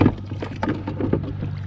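Paddle strokes from a Vanhunks Bluefin 12'0 tandem kayak splash and swish in the water, close and moderately loud, with a soft wind rumble underneath.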